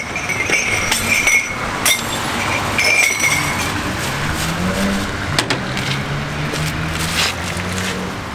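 Glass jars clinking and knocking together as they are handled inside a car, with several bright clinks scattered over a steady background of road and engine noise.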